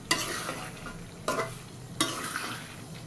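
Potatoes fry in a pan while being stirred, giving a close sizzling hiss punctuated by three sharp spatula scrapes or tosses at roughly one-second intervals.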